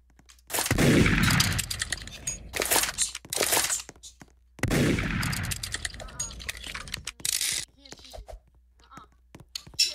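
A unicorn gun fires in the video game MM2 in loud, crackling bursts that stop and start, with people talking over and between the shots.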